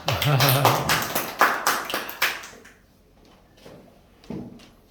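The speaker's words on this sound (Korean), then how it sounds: "박수 한번 주시죠" An audience at a youth-group special lecture by a missionary in Japan gives a short burst of clapping that swells then fades within a couple of seconds, followed by quiet and a lone later knock or clap.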